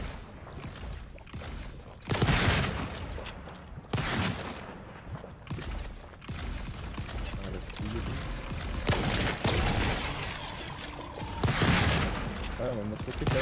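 Gunfire in the video game Volcanoids, repeated bursts of shots and mechanical clatter arriving in waves over noisy game ambience, with a person talking underneath.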